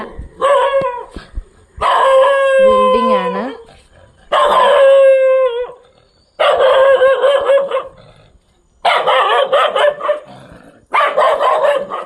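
A puppy at a house built on a rock barks and yelps in repeated loud bursts with some howl-like drawn notes, close to the listener and separated by short pauses.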